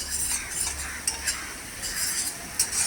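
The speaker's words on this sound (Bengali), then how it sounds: "অল্প অল্প করে জল দিয়ে একটু নাড়াচাড়া দিয়ে" A spatula stirs a prawn dish in a pan with a little water added, giving soft intermittent scrapes and clinks over a low simmering sizzle, close by with no voices.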